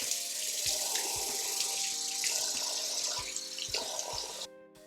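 Water runs steadily from a bathroom sink tap while someone rinses off their face after makeup removal, with splashing bursts and a continuous close flow that cuts off abruptly near the end.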